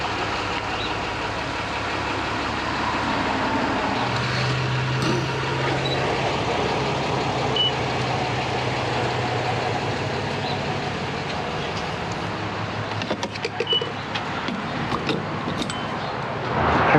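Vehicle engines idle at a roadside gas station, giving a steady, close, low droning hum under constant broadband traffic and ambient noise. The hum stays even throughout, with brief rattling near the end and no voices.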